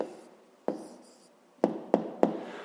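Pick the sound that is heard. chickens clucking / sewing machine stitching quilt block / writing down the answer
writing down the answer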